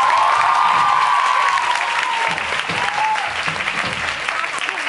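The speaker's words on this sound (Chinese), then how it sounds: "时候应该要掌声鼓励。" A concert crowd applauds, a loud sustained wash of clapping with cheering and a shrill whistle rising over it, gradually thinning toward the end.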